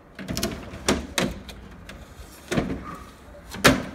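Plastic storage case compartments at a nail station being shut and latched, giving several sharp clicks and knocks spaced across a few seconds, close by with no talking.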